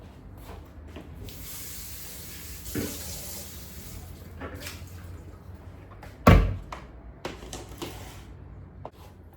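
Food is rinsed under a running kitchen tap while cooking, giving a steady close water hiss with brief clatters and one sharp knock midway.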